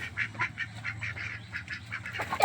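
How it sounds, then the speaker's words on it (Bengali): Large ducks in a farmyard give a rapid string of about a dozen short nasal honks and quacks, fairly close and evenly paced, over a low steady hum, ending with a louder burst. "এ তো প্রচুর বড় বড় হাঁস।"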